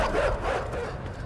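Dogs barking in the side-scrolling video game INSIDE during a chase, a cluster of close, urgent barks and yips over a low rumbling game background.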